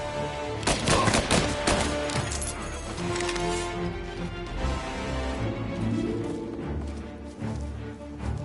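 Sustained gunfire in Mafia: Definitive Edition, with dense bursts of shots crackling loudly at the start and a steady fusillade carrying on throughout, with no talk over it.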